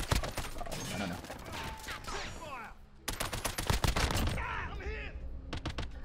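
Rapid bursts of FR 5.56 rifle fire in a video game crack out in tight clusters, loud and close, with a brief lull near the middle before the shooting resumes.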